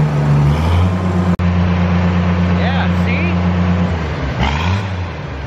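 A John Deere 8RX tractor engine, with a leaking exhaust gasket venting out the side, idles with a deep steady drone and then revs briefly near the end. Someone talks over it.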